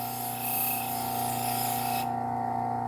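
A knife blade is sharpened with a powered tool that raises a burr along the edge, giving a steady, close whirring grind with a humming tone that runs unbroken for about three seconds.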